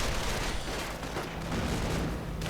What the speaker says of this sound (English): MG42 doing what he can there, but he is getting mortared.